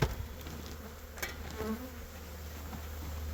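Bees buzz steadily at close range, a soft continuous drone with a few louder passes, no voices.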